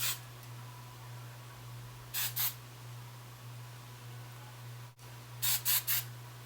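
Two short hissing hairspray bursts onto curled hair, each a quick burst with a brief pause, the second set a little longer, over a low steady hum.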